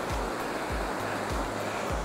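Creek water rushes steadily near hot springs, a dense, continuous broadband wash close by with low thumps from movement, no voices.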